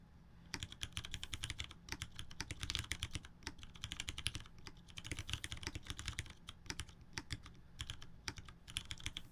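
Rapid, continuous typing on a full-size computer keyboard during a Monkeytype speed test, dense overlapping key clicks in quick bursts with brief pauses, close and fairly quiet, no talking.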